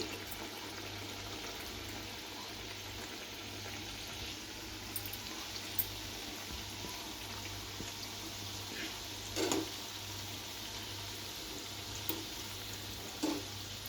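Dough frying in oil in a pan on a stove gives a faint, steady hiss with a few soft pops, and no voices.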